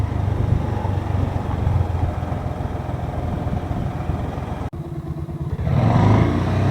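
A motorcycle engine runs steadily and close by on a rural road trip, with a constant low throbbing rumble. It cuts out abruptly for a moment near the middle, then returns slightly louder.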